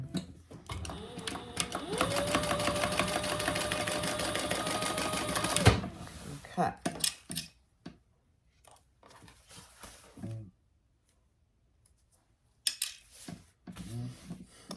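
Sewing machine stitching a fabric travel organizer with a passport pocket, a fast steady mechanical whirring run for several seconds that stops abruptly, followed by scattered handling clicks and a few quiet noises.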